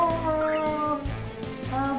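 A cat meows in the Ben 10 video game, a short mewing call heard over busy game music and effects, up close and moderately loud.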